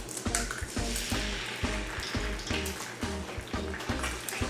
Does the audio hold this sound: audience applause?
no